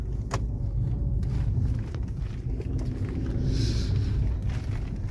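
A car carrying a lottery draw prize is driven near a temple festival in Howly, its engine and road noise forming a steady low rumble throughout, with wind buffeting and a few clicks.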